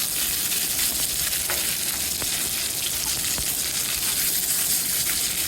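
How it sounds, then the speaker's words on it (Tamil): Mustard seeds, urad dal, dried chillies and curry leaves sizzle in hot oil as a continuous bright crackle. Scattered sharp pops from bursting seeds sound close, with no talking. "ஆயில் விட்டுட்டு எப்பவும் போல் கடுகு உளுத்தம் பருப்பு போட்டு தாளிச்சுக்கிடலாம் நல்லா பொரிஞ்சு வருது"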